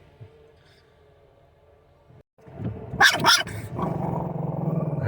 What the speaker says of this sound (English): And this one barks at them all.